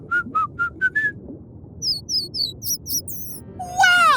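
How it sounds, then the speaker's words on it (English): Dolphin signature whistles and chirps in an underwater scene: a series of short rising whistles, then quick repeated chirps and a louder sweeping whistle at the end, over a steady low watery rumble. "Dolphins communicate with their signature whistles and chirps."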